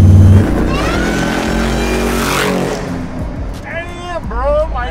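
A 1200 hp Volvo daily-driven car engine roars loudly up close, revving hard with a sharp rising whine, while excited people shout and talk over it.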